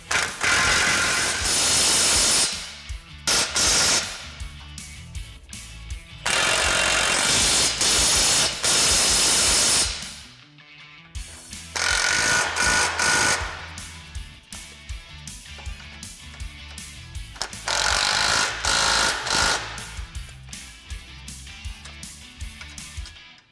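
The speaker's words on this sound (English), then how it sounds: "Now we're going to fully tighten our hardware." Hardware on a Polaris RZR Pro XP rack and pinion is tightened with a power tool in several loud bursts of whirring and ratcheting, separated by quieter pauses with faint clicks, close up with no talk.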